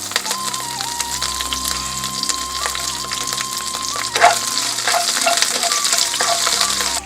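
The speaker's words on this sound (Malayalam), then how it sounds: "അതിലോട്ടേക്ക് ഞാൻ കറിവേപ്പില 2 തണ്ട് ചേർത്ത് കൊടുക്കുകയാണ്" Curry leaves sizzle and crackle in hot oil with fried shallots, a steady close frying hiss with occasional pops and stirring scrapes, no voices.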